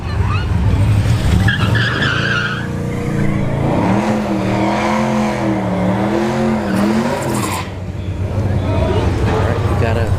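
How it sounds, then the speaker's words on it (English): A fifth-generation Camaro and a Cadillac CTS-V launch side by side at a drag strip, tyres squealing and engines wailing in a long rising then wavering roar, loud and near, with a voice talking over it. "Fifth gen Camaro here in the right lane, and a Cadillac CTSV in the left lane."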